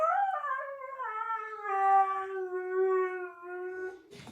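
A pet dog howls in a long rising then falling wail, close and clear, held for about four seconds before a brief noise cuts in.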